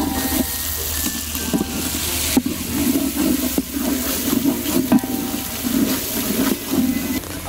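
Ginger garlic paste frying in a pan for a village-style snail fry, with steady loud sizzling and spoon stirring scrapes running continuously throughout.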